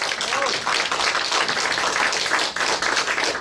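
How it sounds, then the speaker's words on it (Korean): A gathered crowd at a Vietnam War veterans' press conference gives a sustained round of applause, dense and loud clapping filling the whole stretch with brief dips. "이분들에게 큰 박수 한번 해주시기 바랍니다"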